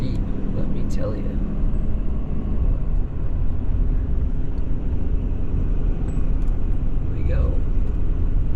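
A 2017 Ford F-550 Powerstroke diesel truck, running empty, labors up a steep hill with a loud, steady low engine drone and cab rumble heard from inside, with a couple of brief high squeaks over it.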